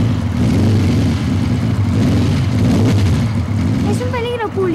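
A noisy, polluting car in the Spanish cartoon series Supercan y su Banda drones with a loud, continuous engine and exhaust hum that swells as it revs, under steady dialogue.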